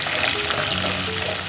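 Chopped ginger and green chilies sizzle in a hot pan on a stove, giving a steady, close frying hiss that stays constant throughout.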